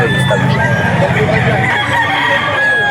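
A young rooster crows loudly and close at a busy pet market in Bocaue, its raspy call overlapping other clucking fowl and background chatter of people.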